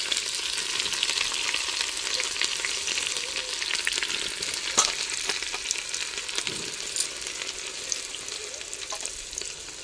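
Cumin seeds frying in hot oil, a continuous bright sizzle with occasional pops and stirring clicks, close and loud, with no voices.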